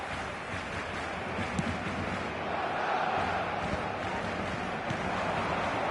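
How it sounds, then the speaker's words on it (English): A broad, steady roar of a large football video game stadium crowd fills the air, swelling slightly midway, like a stadium cheering from all around. "a lot of applause for the thought"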